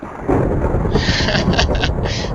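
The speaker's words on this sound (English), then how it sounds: "I just can't get over this thunderstorm." A thunderstorm rumbles loudly in the video game Minecraft, a broad roar of thunder and rain that swells sharply at the start, with bursts of hissy crackle later; no talking.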